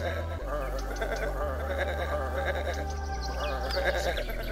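Sheep bleats in the point-and-click game Botanicula, several wavering, throaty calls over a looping low game music bed, fairly close and clear.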